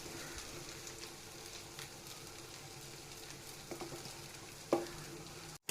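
Fish curry with cut green mango simmering in a pot on the stove, a soft steady bubbling and sizzling hiss that stays fairly quiet throughout, with a brief clink near the end.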